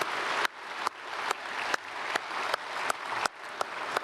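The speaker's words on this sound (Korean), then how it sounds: "우리 박수로 축복하겠습니다" A church congregation applauds during a Sunday worship service, steady dense clapping filling the hall with a few sharper, louder claps standing out at regular intervals.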